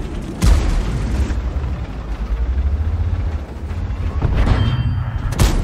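An M46 Patton tank in World of Tanks fires its cannon, with a heavy boom near the start and another near the end over a constant low engine rumble.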